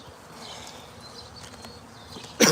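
Honey bees buzz in a soft, continuous drone near a new hive, ending with a sudden loud rustle or thump.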